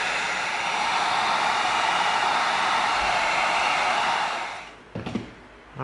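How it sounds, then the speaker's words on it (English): A heat gun blows a steady, loud roaring hiss while heat-sealing EVA foam, running for several seconds before cutting off, followed by a few soft handling clatters. "Let's heat seal it to tighten it up a little bit."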